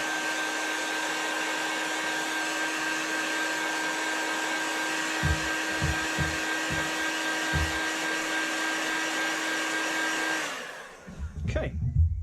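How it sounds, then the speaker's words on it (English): A heat gun blasts steadily as it warms knife scales during handle attachment, a loud, even rushing roar held for about ten seconds before cutting off into a few bumps and handling sounds. "a quick blast with the heat gun does work well"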